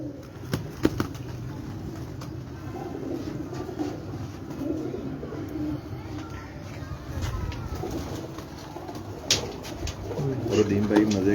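Pigeons coo repeatedly on a rooftop loft, a soft, steady layered cooing from several birds close by, with faint background noise and a few sharp clicks throughout.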